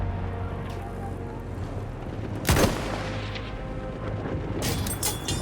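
A Gewehr 98 sniper rifle fires a single sharp, booming shot in Battlefield 1 on a desert map, cutting through steady battlefield ambience, followed a couple of seconds later by faint crackling shots in the distance.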